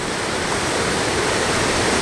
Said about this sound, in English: which has got this quite nice waterfall here running down